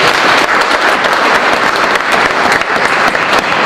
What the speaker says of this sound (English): Big round of applause for all our panellists tonight.